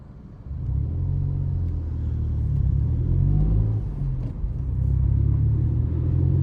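A Toyota Aygo car drives with a steady, loud low engine and road rumble heard from inside the cabin, slightly swelling at times, with no talking.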